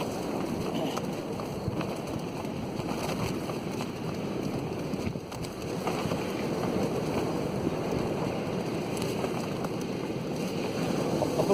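Steady wind buffets the microphone on North Beach at Great Yarmouth, a continuous low roar with gusts rising and falling over the whole stretch, no voices heard.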